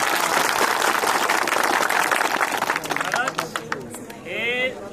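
Large crowd at an outdoor election rally in Shirpur cheering and clapping, a dense loud roar of applause that thins out toward the end, with scattered voices and a brief whistle-like tone.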